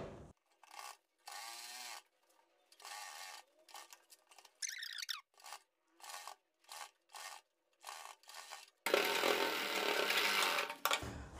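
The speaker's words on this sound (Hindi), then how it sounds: "रखने के बाद में सिलाई मारकर पहले हम इस पट्टी को अटैच करेंगे" A sewing machine stitches a fabric strip onto a kurti in short on-off bursts of rapid whirring, ending in a longer, louder continuous run, all close and without talk.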